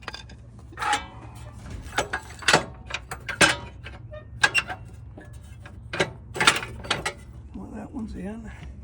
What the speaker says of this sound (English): This is where you need a screwdriver or something to help pull these pins